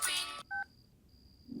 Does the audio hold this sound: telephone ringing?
yes